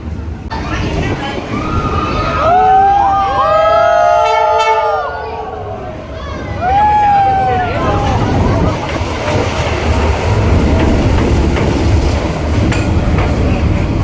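A train rolls through the narrow Train Street market in Hanoi, a loud, close rumble that swells, dips midway, then builds again, with voices and horn-like tones rising over it.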